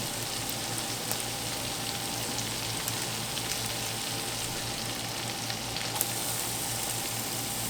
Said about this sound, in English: Once your garlic is slightly brown, we're going to toss in the spaghetti squash.